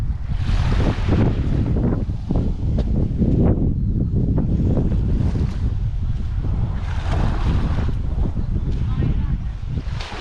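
Waves wash onto a sandy beach in Dilek Peninsula National Park, a broad rushing surf roar mixed with heavy wind buffeting the microphone, continuous and loud with surges throughout.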